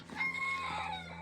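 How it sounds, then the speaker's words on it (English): A rooster crows nearby on a small farm, one short, clear, tonal call, fairly loud and unaccompanied by talk. "hear that rooster? He's done went in there to bed, and he's cock-a-doodle-doodling"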